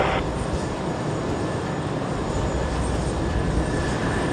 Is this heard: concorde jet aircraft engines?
yes